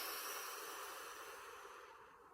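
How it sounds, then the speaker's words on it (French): A slow, steady breath pushed out through the mouth during a relaxation breathing exercise, soft and close, a long airy hiss that gradually tapers off. "On expire par la bouche et on rentre le ventre."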